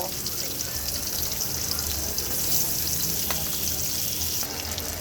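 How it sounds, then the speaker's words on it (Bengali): Small tengra fish fry lightly in oil with a steady, close sizzle and crackle, and a few faint knocks and stirs over it. "আমি হালকা করে মাছগুলো ভেজে নেব"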